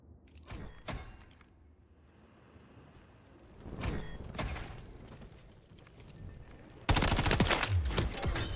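Gunfire in Modern Warfare 3 multiplayer while the player is under sniper fire: several sharp, loud bursts of shots separated by quieter stretches of game ambience, with a dense, louder volley near the end and no talking.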